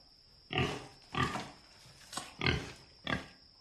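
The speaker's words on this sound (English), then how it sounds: "Oh, my golly. The governor's pig." A pig grunting in a radio drama, five short, loud, close bursts spaced about half a second apart, with a faint steady tone behind them.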